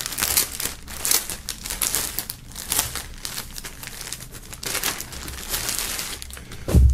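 Plastic film crinkles and crackles steadily as a music album and a hoodie from a boxed set are unwrapped by hand, close up with dense rustling bursts throughout.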